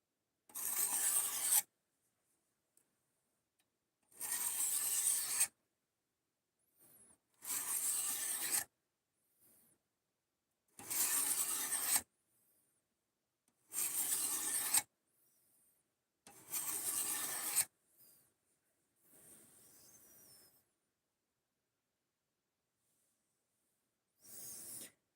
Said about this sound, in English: now I'm going to drag this backwards very lightly on that 600 grit stone and try to roll the worst of this burr off